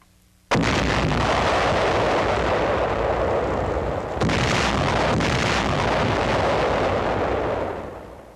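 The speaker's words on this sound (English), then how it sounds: "The mines are carried to a secluded area and then destroyed." Large blast from destroyed wooden box anti-tank mines detonated in a secluded area, a sudden loud boom followed by a long roaring rumble that lasts several seconds, with a second surge midway before slowly fading.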